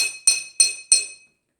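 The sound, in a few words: metal spoon striking water-filled glass cups, homemade xylophone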